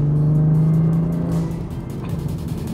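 BMW 340i with the B58 engine holds a steady, loud drone throughout, easing slightly partway as the engine note settles, with no talk over it.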